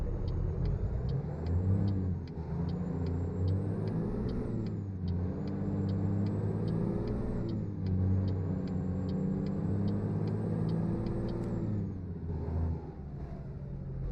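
A truck engine in the video game American Truck Simulator revs high and drones loudly, its pitch swelling and easing in long waves with faint regular ticking above, no voices present.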